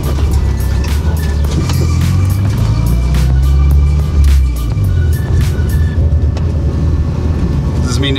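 A Subaru drift car with a welded differential drives with a loud, steady engine rumble and wind buffeting throughout, with occasional voices over it.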